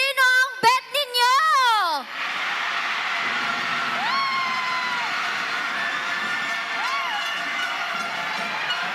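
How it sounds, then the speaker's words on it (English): A crowd cheers and screams steadily at the Mister and Miss UB 2025 pageant, a loud continuous roar with scattered whoops that follows a few seconds of singing. "Grabe, the crowd is so hyped right now."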